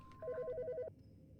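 In Autopsy Simulator a telephone gives a short burst of ringing, a quick two-tone electronic trill under a second long, crisp and near, then cuts off to near silence.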